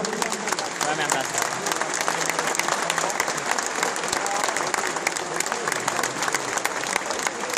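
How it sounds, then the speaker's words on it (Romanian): An audience applauds children at a youth sports event in Ploiești, a dense, continuous wash of clapping with crowd murmur beneath it, heard close and loud throughout. "Se aplaudă o dată pe acești copii minunți!"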